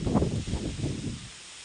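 Gusty wind blows outdoors, a rough low rumbling buffet across the microphone that pulses unevenly for over a second before easing off near the end.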